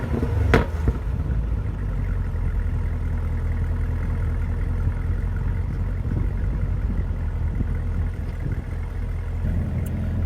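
A Camaro ZL1 sports car with a dual-mode exhaust idles with a steady low rumble and a deep exhaust burble, close by and continuous, with faint voices in the background.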